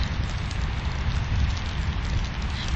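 Steady, dense rain patter, a constant hiss of drops hitting a surface with a low rumble underneath, continuous and fairly close.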